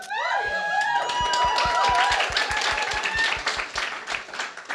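Church congregation applauding a guest preacher during a morning service: a burst of many hand claps with sharp individual claps standing out, a few voices calling out at first, then the clapping gradually thins.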